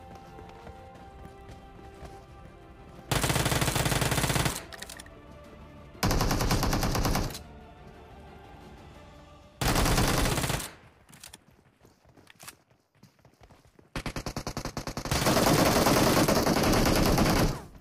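Gunfire in the PUBG mobile battle-royale game at Pochinki, loud bursts of rapid automatic shots in several long volleys separated by quieter stretches of footsteps and movement, with no talk.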